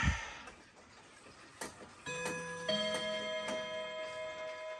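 A Seth Thomas clock ticks sharply in a quiet room, a few distinct ticks followed by ringing, sustained tones that layer and linger close by.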